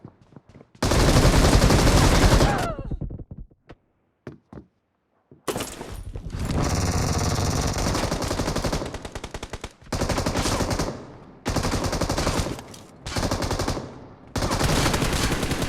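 Bursts of automatic gunfire in PUBG played on a Vivo X80 phone, loud rapid volleys separated by short silences and scattered single shots.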